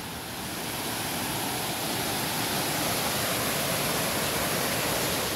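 Running water rushes steadily through a canyon in a dense, even roar that holds constant throughout, with no voices over it.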